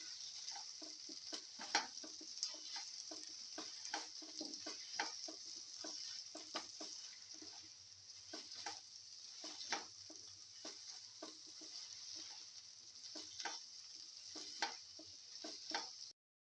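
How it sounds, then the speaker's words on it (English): Eggplant sautéed with salt in a pan gives a steady, bright sizzle, broken by frequent clicking scrapes as it is stirred and mixed. "Thoroughly saute and mix."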